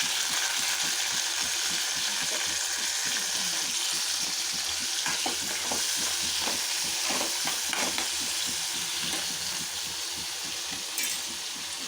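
Tomato pieces fry in an oiled pan for a chutney, a continuous soft sizzle with irregular scraping and light clinks as they are stirred, close and steady throughout.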